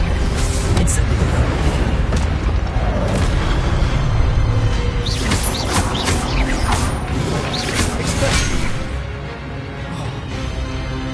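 A fire spell cast in Hogwarts Legacy, a sustained roaring blast with crackling bursts and booming impacts that stays loud throughout and eases slightly near the end.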